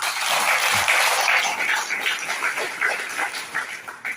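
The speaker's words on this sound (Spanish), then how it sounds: "solicito fuerte aplauso" An audience at a regional congress claps in a sustained, dense burst of applause that holds steady and then begins to thin and fade near the end.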